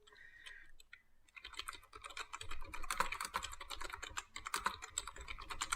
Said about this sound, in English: It's the loudest typing I've ever heard in my life.